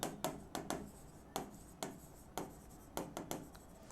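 Chalk or marker writing on a board during an accounting lesson: quiet, close scratchy strokes in irregular short bursts, alone with no talk.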